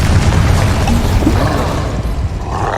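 The Confringo explosive spell from Hogwarts Legacy goes off as a loud, close, rumbling boom that fills the low end, then rolls on in a dense roar before easing slightly.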